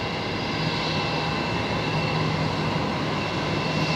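A Qantas Link Embraer jet landing on runway 01 left at Brisbane Airport, heard as a steady, loud, broadband engine roar that holds evenly throughout with no voices.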